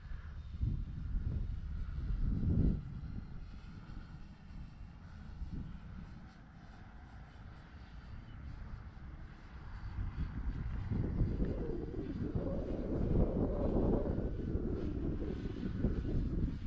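An E-flite EC 1500 radio-controlled airplane flying in high winds, its engine drone swelling and fading as it passes overhead, with wind buffeting the microphone throughout.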